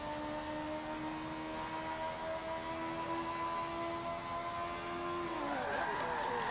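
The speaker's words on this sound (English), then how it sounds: "Nice skid." Race car in Forza Motorsport 7 holding a steady engine whine that breaks into a short skid near the end, pitch sliding downward with tire scrub, loud and close, with faint talk underneath.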